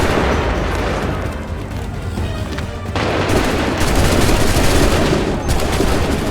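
Massed musket volley gunfire rolls through a battle in Assassin's Creed 3, a dense, loud, continuous crackle of overlapping shots with heavy booming underneath, lasting the whole stretch.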